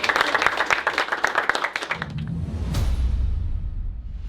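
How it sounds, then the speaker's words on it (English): A high school sports team claps together, a quick burst of close hand claps lasting under two seconds before giving way to a low rumbling whoosh. "Let's clap it up, man."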